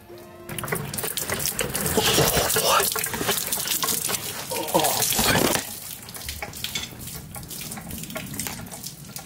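Coolant pouring out of a loosened hose on a BMW F30, a steady rushing, splashing stream that grows louder midway and then thins into a softer trickle, close by.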